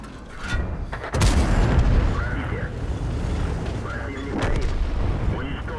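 Tank cannon fire from World of Tanks, Tier 8 Russian heavy tanks IS3 and IS6 in battle, with a loud heavy boom and rumbling blasts over continuous battle noise, while someone talks throughout.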